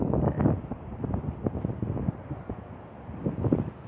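Wind blows at an outdoor grand promenade, buffeting the microphone in uneven rumbling gusts that rise and fall steadily, with no clear voices.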